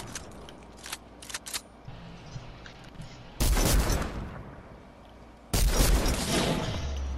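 Infantry rifle gunfire in Fortnite: two loud bursts of rapid shots, each lasting about two seconds, preceded by softer clicks and scattered game sounds.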